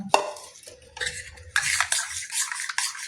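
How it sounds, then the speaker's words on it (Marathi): A spoon stirs egg pudding batter with milk in a bowl, scraping and swishing in bursts with a few utensil taps against the bowl, close and fairly loud. "आतां सगळें मिक्स करून घेवया सारकें."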